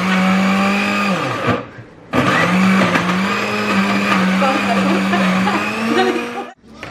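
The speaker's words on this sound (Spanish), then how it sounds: "Y vamos a licuar." Kitchen blender whirring loudly as it purees ceviche ingredients with coriander, running in two close bursts separated by a short pause, its motor pitch wavering slightly as the contents churn.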